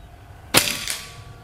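A single sharp shot from a semi-automatic PCP air rifle cracks out, followed by a brief ringing decay and a faint second echo, against a quiet background.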